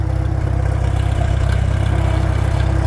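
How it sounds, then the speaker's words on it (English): A Farmall M tractor engine runs steadily close by, a continuous low chugging throb with even firing pulses and no talk over it. "We take a ride on the tractor."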